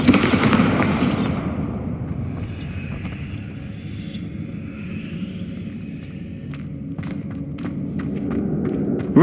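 A Bombarda blast spell in the Hogwarts Legacy video game goes off as one loud booming explosion in the opening second, then fades into a low rumbling tail over steady ambient game background.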